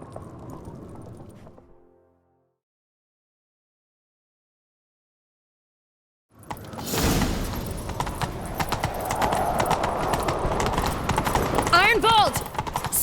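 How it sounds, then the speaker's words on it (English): In the video game The Witcher 3, after a brief stretch of silence, hooves pound rhythmically at a fast gallop, loud and close, with a horse's whinny near the end. "Grab a horse, we'll chase him down."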